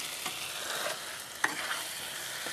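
Chicken curry being stirred and sautéed in a pan with garlic, a steady sizzle of oil broken by a few scraping strokes of the spoon, with one sharper clack near the middle; no talking.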